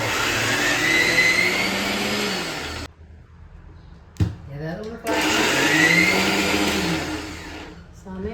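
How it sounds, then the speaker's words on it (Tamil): Mixer grinder grinding roasted coriander, fennel and dried chillies: a loud, close whirring roar runs in two long bursts separated by a quieter pause. "அந்த மல்லி பெருஞ்சீரகம் வத்தல் மூணையும் சேர்த்து நம்ம மிக்சியில அரைக்க"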